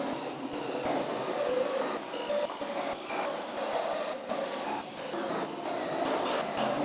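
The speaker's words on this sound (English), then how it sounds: "Now we can use our 5/16 drill bit." A continuous grinding whir of a power drill with a 5/16 bit boring out spot welds in a Mustang's metal body panel, with brief dips in pitch as it cuts, close and fairly loud.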